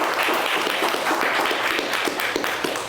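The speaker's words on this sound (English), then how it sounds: "Let's give another huge round of applause for the panelists." Audience applause for the panelists at the close of a social media networking event, a dense, steady wash of many hands clapping throughout, fairly loud and close.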